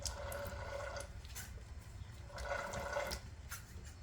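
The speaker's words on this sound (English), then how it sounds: "Now we're getting plenty of oil coming out." Used oil drains from a Troy Bilt TB42 lawn mower, a faint liquid trickle and gurgle that swells in two short surges at low volume.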